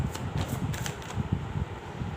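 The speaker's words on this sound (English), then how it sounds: "Let's shuffle the cards." Tarot cards are shuffled by hand in a quick, continuous riffling flutter, close and fairly quiet, with no speech.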